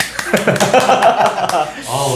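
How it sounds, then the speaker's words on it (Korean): Brief welcoming applause for a new guest panelist on a church talk show, a few people clapping in a loose rhythm mixed with chuckling and voices. "환영의 박수 한번."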